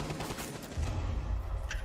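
Gunfire in a tactical shooter game played in a competitive esports semi-final, heard as a busy rattle of shots with booming low rumble, fairly loud and continuous without speech.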